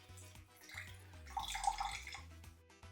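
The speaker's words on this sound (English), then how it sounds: "I'm going to do 1/4 cup of lemon juice" Lemon juice being poured into a pitcher: a faint, short liquid trickle and splash in the middle of a quiet kitchen moment, over low background hum.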